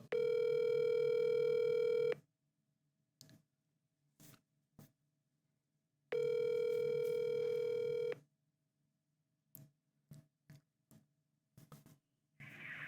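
A phone call rings out on a handset: two long, loud ringback tones of about two seconds each, separated by a four-second gap, with faint clicks and taps scattered between and after the tones.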